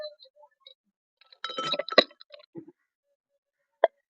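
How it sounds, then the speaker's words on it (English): A few ice cubes clink and rattle into a tall glass for a grenadine lagoon mocktail, a close cluster of bright knocks followed by a lone sharp clink after a pause. "you have to take a tall glass and you have to add some ice cube."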